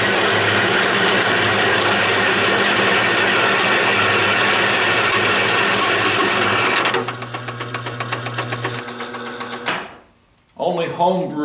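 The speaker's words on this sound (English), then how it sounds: "Only home brewers get a kick out of watching grain being milled." A grain mill grinds malted grain for home brewing in a cold garage, a loud steady mechanical rattle and grinding that runs continuously, then thins out and stops near the end, leaving a brief quieter tail of other sounds.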